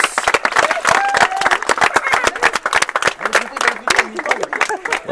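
A small gathering of people claps lively and close at a baptism, brisk uneven hand claps with voices and cheers mixed in throughout.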